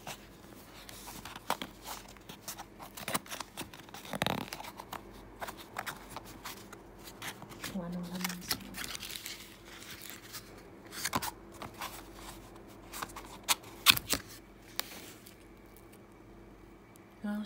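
Packaging of a Cypress natural olive oil soap being opened by hand, with irregular crinkles, rustles and scattered sharp tearing clicks close by, quiet between bursts, and no talk.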